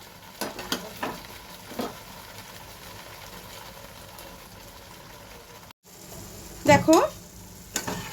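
Onions sizzle in hot oil for a small-shrimp malai curry, stirred in short scraping bursts over a low, steady frying hiss; a voice speaks briefly.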